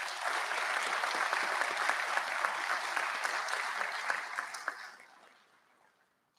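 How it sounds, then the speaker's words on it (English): Sustained audience applause for senior athletes at a high school senior recognition ceremony, a dense wash of many hands clapping steadily for about four seconds before thinning out and fading to quiet. "So I want to give them a round of applause as well."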